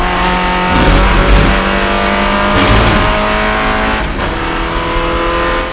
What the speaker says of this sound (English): I heard a lot of misfiring out of what sounded like a Porsche straight six just there